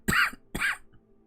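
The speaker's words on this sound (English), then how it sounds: "that was a purely nose cough." Two short, sharp involuntary coughs forced through the nose with the mouth closed, close to the microphone, followed by a faint trailing breath.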